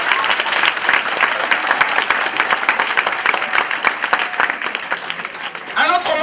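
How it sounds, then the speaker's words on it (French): A church congregation claps together in sustained, dense applause for the word of the Lord, loud and steady for several seconds before a voice breaks in at the end. "On acclame la parole du Seigneur, frères et sœurs"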